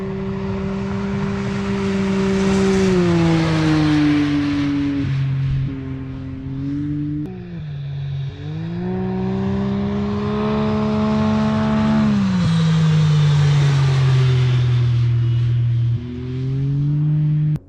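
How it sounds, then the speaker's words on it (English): UTVs racing through the desert at the Jackpot 250, engines droning and rising and falling in pitch as they pass close by, loud and continuous with repeated revving swells and no talking. "with those two UTVs already passing"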